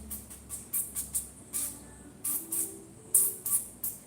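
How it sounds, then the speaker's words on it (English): Olive oil spray hisses onto a cake frame in a series of short, quick bursts, about a dozen soft sprays spaced irregularly, close by in a quiet kitchen. "Alright, so I just got my olive oil spray."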